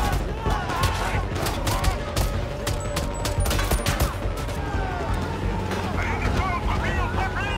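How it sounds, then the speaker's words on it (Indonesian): Rapid gunfire from a film shootout crackles in dense bursts over a busy background of movement and effects, loud and sustained throughout. "Baku tembak pun tidak terelakkan lagi setelah Casper dan anak buahnya melancarkan serangan."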